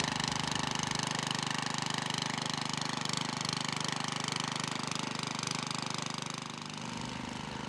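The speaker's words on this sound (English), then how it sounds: "The tines will start to till the soil as soon as they make contact." Troy-Bilt tiller tilling soil, its engine chugging in a steady, continuous rattling drone at moderate distance with no talk over it.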